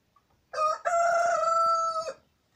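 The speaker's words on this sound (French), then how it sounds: "joli lot de poussins qui a pas mal évolué, qui commence maintenant à devenir de la jeune volaille" A rooster among a batch of young poultry, grown from chicks, crows once up close: a loud, drawn-out cock-a-doodle-doo with a brief opening note, then silence.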